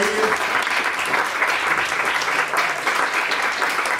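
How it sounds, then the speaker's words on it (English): An audience applauds after a dance performance, a steady, dense round of clapping that holds at an even level from start to finish. "Let's give them a round of applause again for radio"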